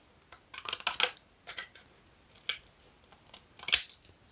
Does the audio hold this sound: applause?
no